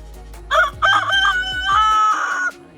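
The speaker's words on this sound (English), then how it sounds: "Go ahead, you can crow." A rooster crows loudly and close by, one long drawn-out cock-a-doodle-doo with clucking-like breaks in the call, set in a tomato garden.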